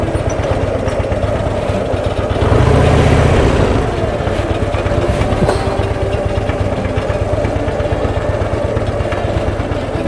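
A Harley-Davidson motorcycle engine runs near at hand with a steady low rumbling throb, swelling briefly louder partway through before settling back to an even idle.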